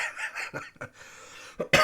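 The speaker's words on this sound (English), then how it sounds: "I still have a cough." An adult with asthma coughs several times in short, dry bursts, two close together early and two more near the end, close to the microphone in a quiet room.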